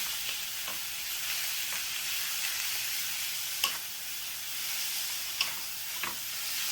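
Pork stir-frying with garlic and red chili gives a steady, close sizzle, broken by a few sharp scrapes and taps of a utensil against the pan, with no talking.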